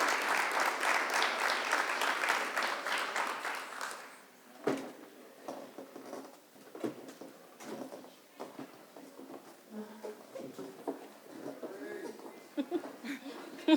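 Applause from an audience welcoming speakers onto a panel discussion stage, dense and loud at first, then thinning into scattered claps, shuffling and murmuring voices as the room settles.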